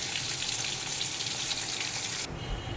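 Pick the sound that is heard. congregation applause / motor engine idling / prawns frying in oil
prawns frying in oil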